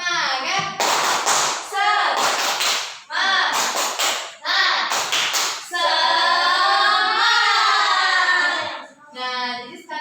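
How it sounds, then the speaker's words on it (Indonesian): A school class doing rhythmic spirit clapping, bursts of loud hand claps in patterned groups alternating with children chanting together, the voices turning to sustained sung tones in the later part. "kita tepuk semangat dulu yuk"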